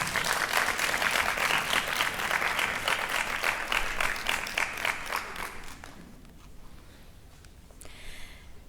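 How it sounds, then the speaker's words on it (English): Graduation ceremony audience at a law faculty applauding their supporters, a sustained wash of many hands clapping in a large hall that gradually thins and fades to scattered claps and room noise. "give them a hand of applause"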